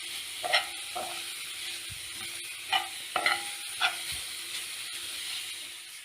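Food sizzles and hisses steadily in a hot pan while a utensil scrapes and stirs it in several short, clattering bursts.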